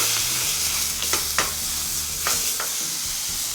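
Beef fillet searing in a frying pan for a beef wellington, a steady close sizzle with occasional scraping turns as the meat is browned on all sides.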